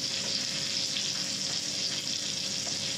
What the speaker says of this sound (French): la cuisson de la côte de bœuf.